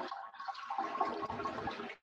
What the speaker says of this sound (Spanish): está sonando agua por ahí